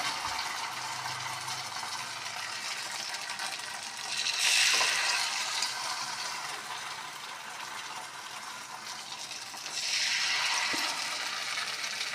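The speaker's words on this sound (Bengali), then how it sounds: "আমি অল্প অল্প তেলে করছি, বেশি তেল খাওয়া বারণ। তার জন্য অল্প অল্প তেলেই করে নিচ্ছি বড়া।" Teasel gourd fritters frying in a shallow layer of oil give a steady, soft sizzle throughout, swelling louder twice as batter is added or turned, with no one talking.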